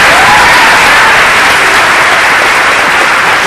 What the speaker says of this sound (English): Another applause for Dell's guys.